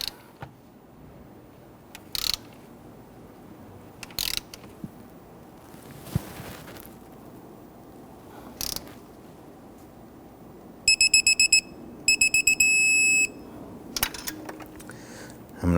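A torque wrench tightens the starter nuts and bolts on a 2011-2015 Kia Sorento: scattered sharp clicks, then two short bursts of rapid, tonal beeping near the end, close by and with no talk.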